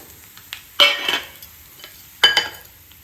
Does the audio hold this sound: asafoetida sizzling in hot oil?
yes